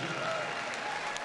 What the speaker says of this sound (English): A big round of applause for one of the most popular breeds in the group